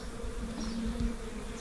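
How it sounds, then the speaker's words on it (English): Nurse bees buzzing on exposed comb inside a garage wall, a steady, close, dense drone of many bees with a constant low hum throughout. "you can see the nurse bees are all working on the comb, even though we've disturbed the crap out of them"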